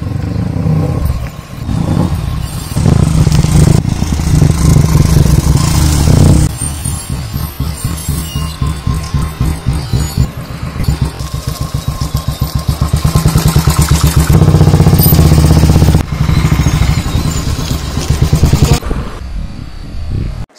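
A Royal Enfield motorcycle engine runs loud and close for about twenty seconds, its steady thumping idle rising into revving bursts with mechanical clatter and no talking.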